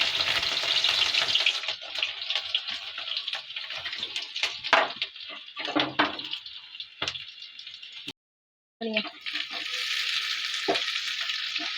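Green chili, garlic and ginger fry in hot oil in a pan, a steady bright sizzle with stirring scrapes and clicks, briefly cut off for a moment before the frying resumes loudly.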